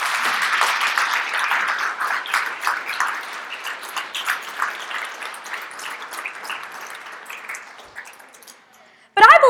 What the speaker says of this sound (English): So can we please give them a huge round of applause?